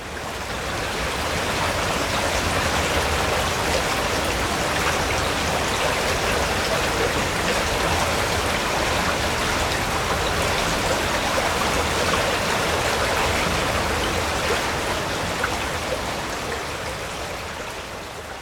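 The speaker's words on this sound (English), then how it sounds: "it's there that we can still see it emerging into the River Clyde." Steady rushing water of the Molendinar Burn where it flows out into the River Clyde, a continuous broadband wash that holds loud and unbroken throughout with no voices.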